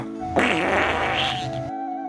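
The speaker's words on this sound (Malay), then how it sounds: "Dia nak rasa kentut, dia kentut." A long, loud fart sounds close by, a rough sustained blast lasting over a second over a steady background hum, then cutting off abruptly.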